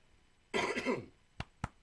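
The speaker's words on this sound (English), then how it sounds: "That's a smoker's cough." A broad, rough smoker's cough burst followed by two short, sharp coughs, close and loud, with no talking.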